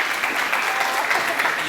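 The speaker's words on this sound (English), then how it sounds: "big applause again for the DC Living Lab." Audience at a creativity forum plenary gives a steady wash of loud applause, dense and continuous for the short stretch.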